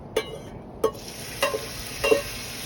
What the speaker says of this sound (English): Here it sizzles.